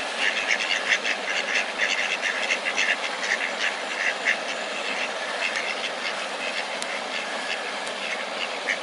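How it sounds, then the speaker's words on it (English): Ducks quack in a dense, continuous chorus at a park lake in Queens Park, with Canada geese nearby. The calls overlap steadily at moderate volume and no one speaks. "Of course, all the ducks from miles around are coming to see if we've got any food for them."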